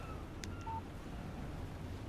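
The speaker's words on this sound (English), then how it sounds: "Text message from Barry." A short electronic alert tone rings once from a phone in Alan Wake, a quick clicky blip followed by a brief clean beep, alone over a quiet low ambient hum.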